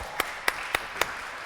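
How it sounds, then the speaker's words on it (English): At a startup conference after a talk, a few sparse handclaps sound: four sharp, evenly spaced claps over a quiet room hum, fairly faint and close. "Big applause."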